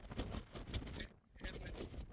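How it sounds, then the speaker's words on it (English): Strong wind on a clifftop at Slieve League buffets the microphone in loud, rushing gusts, dropping briefly before surging again. "The gusts are really kicking up."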